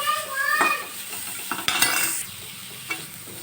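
Chopped ginger and carrot being lightly fried in a pan, with a soft sizzle under scraping stirs and a few clinks of a utensil against the pan.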